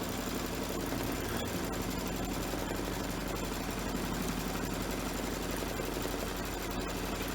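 An embroidery machine runs a straight stitch around the outline of a fabric patch, giving a steady, continuous mechanical hum and whir at close range with no voices.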